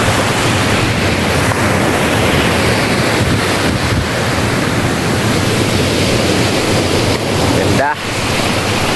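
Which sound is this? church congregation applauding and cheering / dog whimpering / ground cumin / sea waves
sea waves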